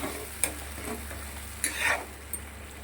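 Fish curry sizzles in a pan after a watery coriander and cumin paste is added. A steady low frying hiss runs throughout, with a few sharp clicks and scrapes from stirring and no talking.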